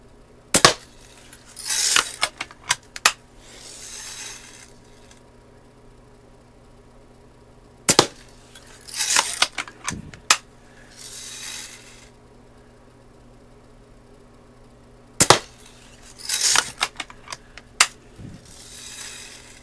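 Rebuilt Daisy 299 BB gun fired at a target in three spaced cycles, each a sharp close snap followed by metallic cocking and ratcheting clatter and a short hissy rustle, no talk.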